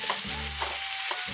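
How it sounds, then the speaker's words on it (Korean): Mushrooms and bacon stir-fried with softened onion in a pan with olive oil, a steady close sizzle broken by three quick scraping stirs of the spatula. "이때 바로 버섯과 베이컨을 넣고 볶아주세요"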